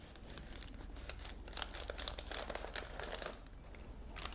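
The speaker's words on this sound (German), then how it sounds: "Wenn die Butterbrottüten getrocknet sind, können wir sie vom Glas nehmen." Paper sandwich bags, dried onto a glass, crinkle and crackle as they are peeled away with care, giving a close, steady rustling that swells a little in the middle.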